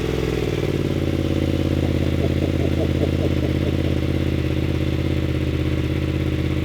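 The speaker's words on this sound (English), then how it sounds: "let's see what this thing sounds like on a cold start" A 2025 BMW F900 GS motorcycle engine fires up from a cold start and settles into a steady, loud, close idle with a rough mechanical clatter throughout.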